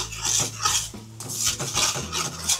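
A utensil stirs and scrapes ingredients around in a cooking pan, producing close, repeated metallic rasps and swishes in an uneven back-and-forth rhythm with no talking.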